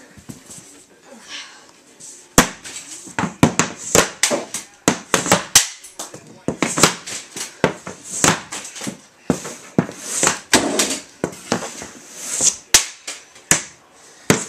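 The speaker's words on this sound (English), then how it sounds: "I'm gonna shoot the rest of these pucks that we just lined up" Hockey pucks shot with a stick at a net in a home basement, a long run of sharp, loud cracking impacts at irregular intervals, close by, with short gaps and some stick scrapes in between.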